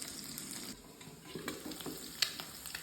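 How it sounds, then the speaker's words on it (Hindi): Two eggs frying in ghee with crushed garlic in a pan, a steady quiet hiss and crackle throughout with small pops and spatters. "अब इनके ऊपर मैं अंडे डाल दूँगा"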